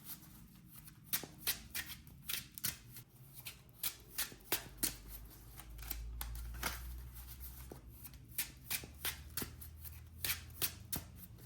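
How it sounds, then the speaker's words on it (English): A Swordsoul trading card deck being riffled repeatedly, bursts of crisp flapping and snapping clicks with short pauses between shuffles, close by over a low background hum. "I'm going to quickly shuffle the deck and go into a test hand"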